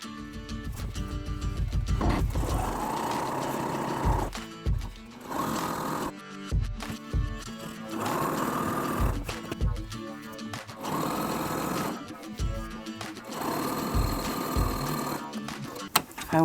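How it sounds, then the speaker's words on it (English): Domestic sewing machine stitching quilt background fabric pieces together, a loud steady mechanical whirr running in bursts with brief pauses between seams, under music. "now I'm going to sew the background pieces together"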